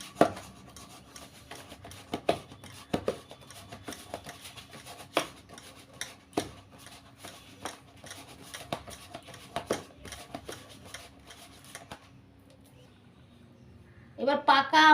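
Sticky wet slaps and squelches as pitha batter of rice flour, warm water and ripe mango paste is beaten and kneaded by hand, a steady irregular rhythm that stops, then a louder rustle at the end.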